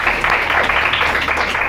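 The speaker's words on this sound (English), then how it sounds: "Can we give him a huge round of applause" At a bilingual declamation contest, an audience gives a speaker a round of steady, dense clapping that holds evenly at a moderate, fairly close level throughout.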